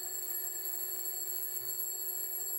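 An alarm rings with a steady, continuous electronic tone that holds unchanged throughout, with nothing else heard over it.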